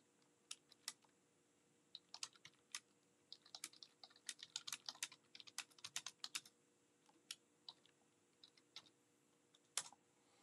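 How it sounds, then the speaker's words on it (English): Quiet typing on a computer keyboard, irregular clusters of light key clicks with pauses, close and faint over a low hum, no speech. "Let me type this in."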